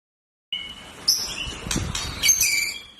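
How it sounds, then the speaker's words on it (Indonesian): A white-rumped shama sings a series of bright, clear whistled phrases and trills, fairly close, with a faint rustling background and no voices. "Murai batu."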